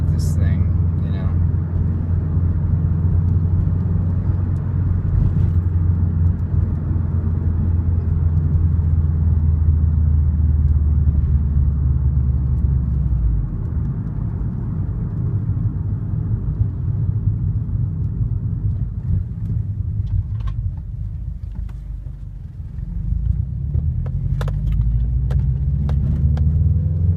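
Steady, loud low engine and road rumble inside a 2013 Subaru WRX during ordinary driving, a continuous drone that shifts slightly in pitch as speed changes, with a brief lull near the end.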